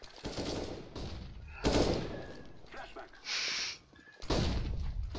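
Gunfire in the tactical shooter CS:GO, several loud broadband shots at intervals in a short exchange, with game sounds between them.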